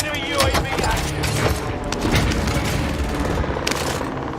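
Rolling barrage of cluster strike explosions and booms in a Call of Duty video game, dense and continuous with layered blasts and gunfire, while a person talks over the din.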